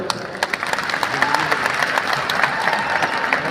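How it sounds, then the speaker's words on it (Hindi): Loud, sustained applause from a large audience at a crowded MLM business seminar in India, dense clapping throughout, with some cheering mixed in. "मैं अपने भगवान संजीव सर के लिए एक जोरदार ताली बजा दो"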